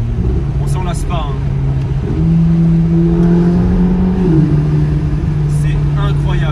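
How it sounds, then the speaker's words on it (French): A Ferrari Roma sports car engine revs loudly and steadily, its pitch rising and falling, with people talking over the constant roar. "Je pensais pas vraiment que la voiture elle faisait autant de bruit que ça"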